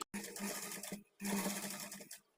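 A sewing machine stitches a blouse neck shoulder margin in two quick bursts of rapid, even whirring with a short pause between, close and clear.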